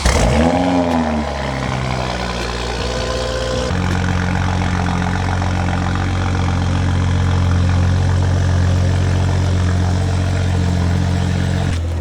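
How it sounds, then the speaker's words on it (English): A Toyota GR Supra with a modified exhaust and downpipe idles loudly and steadily after a brief revving cold start, with a deep, rumbling exhaust drone throughout. "that was the first start of the car"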